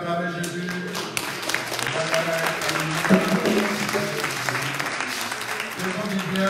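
A church congregation breaks into sustained applause and cheering for Jesus during a French-language worship service, dense clapping filling the room with voices and music mixed underneath throughout.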